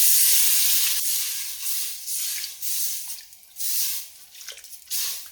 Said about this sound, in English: Now is as good a time as any to add in our beef broth.